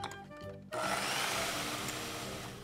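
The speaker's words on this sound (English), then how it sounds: "And let me mix all this up." Melted butter is mixed into red velvet aebleskiver batter, and a steady, close, rough whirring and scraping begins abruptly under a second in and continues evenly to the end.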